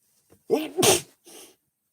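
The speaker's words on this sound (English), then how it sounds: "I feel like I'm gonna sneeze." A single sharp sneeze, close and loud, with a brief inhale before it and a short breathy sound after.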